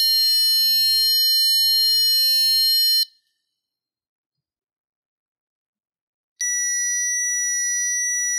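A piezoelectric buzzer driven by an Arduino tone function at 30 Hz gives a harsh, steady electronic whine that sounds for about three seconds, cuts to silence, then returns for the final two seconds.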